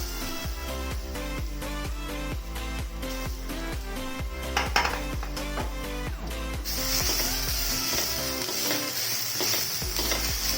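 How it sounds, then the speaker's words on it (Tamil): Coconut dry roasting in a pan for a chicken gravy masala, with steady rhythmic scraping and stirring strokes against the metal, a light crackle underneath, and a brighter hiss growing in the later part, close and continuous with no talking. "தேங்காவையும் கொஞ்சம் வறுத்துடலாம்."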